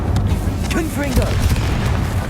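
A booming Confringo blasting spell explosion in the Hogwarts Legacy video game, a deep rumbling blast with gliding whooshing tones over a heavy low roar, loud and close, with a voice briefly audible amid it.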